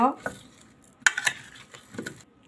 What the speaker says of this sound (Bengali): চিনির সঙ্গে আমের সঙ্গে ভালো করে মাখাই নিব